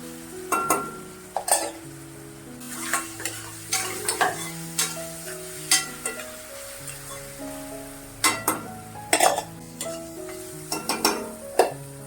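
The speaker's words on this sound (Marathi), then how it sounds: "चांगला कांदा परतून घ्यायचा आणि ठेचा परतून घ्यायचा." Onion is sautéed with a crushed paste of garlic cloves and ginger while preparing a sprouted green moong sabzi; a steady sizzle sits under repeated scraping stirs and metallic clinks from the pan, close and without talk.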